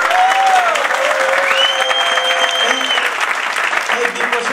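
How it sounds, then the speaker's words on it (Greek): Conference audience applause fills a hall, a dense, loud wash of clapping throughout, with sustained musical tones running underneath. "σας αξίζει τρομερό χειροκρότημα"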